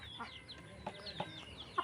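Farmyard chickens cluck in short, scattered calls while running about for food, a little distant and faint over a busy outdoor background, with no talking.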